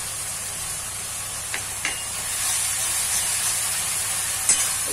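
Fish and shrimp frying with spices in a pan give a steady, close hiss and sizzle, with a few faint stirring clicks over the continuous frying noise.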